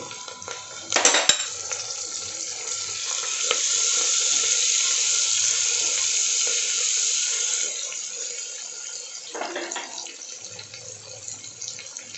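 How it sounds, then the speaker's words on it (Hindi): A loud hiss as tomatoes hit a hot pan of fried onion, ginger and garlic paste, with sizzling that swells and holds steady before easing, plus a few clanks of utensils. "अब हमारा प्याज अदरक लहसुन का पेस्ट भून चुका है। अब इसमें हम टमाटर डाल देंगे।"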